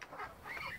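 Muscovy ducks in a backyard poultry enclosure call in soft, breathy hisses and honking bursts, a few overlapping calls across under a second, close by and moderately quiet.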